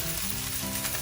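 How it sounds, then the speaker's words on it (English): Rice tossed and stir-fried in a pan over a high flame for chicken rice-paste fried rice, giving a steady, close sizzle without a break and no voices. "Bring the flame to high and just toss the rice"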